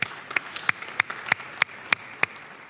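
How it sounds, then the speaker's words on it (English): Audience at a forum claps for the speakers, a sparse, fairly dry round of distinct hand claps at a steady pace, close and clear with little crowd noise behind it. "A warm round of applause for our speakers."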